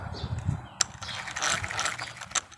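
A baitcasting fishing reel turned by hand gives a steady run of fine mechanical clicking and whirring from its gears, close and fairly loud, with a sharp click partway through.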